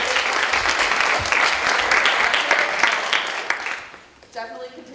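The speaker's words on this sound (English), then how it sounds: "let's give a round of applause for our panelists" Audience at a campus panel discussion on dating applauds the panelists, a dense burst of clapping that fades out near the end, with a voice briefly audible.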